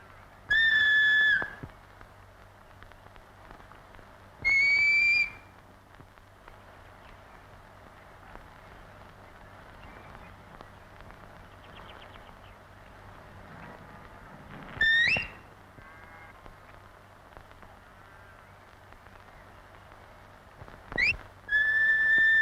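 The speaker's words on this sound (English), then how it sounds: "At a verbal or whistle command, each dog works in turn" Sharp, high shepherd's whistle commands to New Zealand farm sheepdogs sound alone over quiet outdoor ambience, some short and some with rising or falling notes, spaced far apart and repeated.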